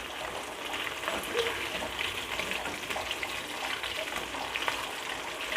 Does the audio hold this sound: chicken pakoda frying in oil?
yes